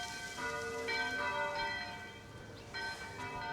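Church bells peal in a village setting, several tones struck in succession and ringing out with long decays, heard from a distance over soft outdoor ambience.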